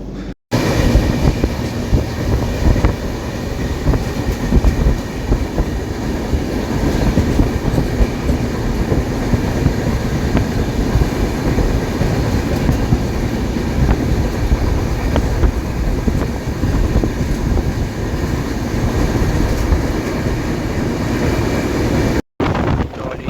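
A train rumbles past close by for a long stretch, steady and loud, with rhythmic wheel clatter on the rails throughout.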